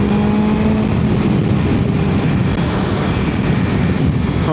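Steady, loud rush of a BMW S1000XR 170 bhp motorcycle on a road ride, engine drone blended with heavy wind buffeting across the microphone throughout, with no talk.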